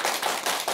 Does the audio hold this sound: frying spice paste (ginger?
no